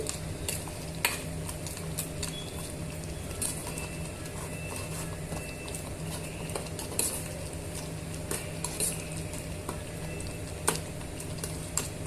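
Chicken curry masala is stirred and mixed in a pan: steady scraping and clinking of a spoon against metal with continuous sizzling underneath, sharp ticks scattered throughout, no voices.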